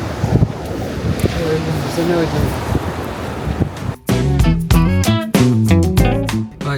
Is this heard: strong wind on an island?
yes